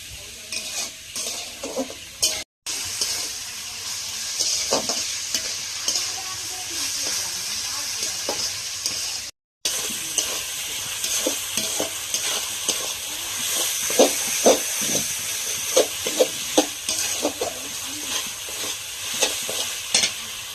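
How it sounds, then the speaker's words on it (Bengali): Food frying in a hot pan gives a loud, steady hissing sizzle, with stirring scrapes and crackles that grow busier over time. A couple of brief dropouts break the sound, and a voice comes through now and then. "এটাকে এখন ফ্রাই করবো"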